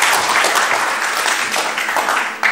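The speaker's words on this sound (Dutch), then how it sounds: "Mag ik jullie hartelijk applaus voor Guido Weijers." Theatre audience breaks into warm applause for Dutch comedian and cabaret artist Guido Weijers, a dense, steady burst of many hands clapping at close range.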